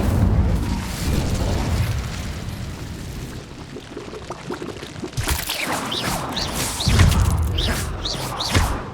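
The Incendio fire spell cast in Hogwarts Legacy, a loud rushing whoosh of flame with booming bursts and crackling magical effects, dense game combat sound with repeated impacts and no speech.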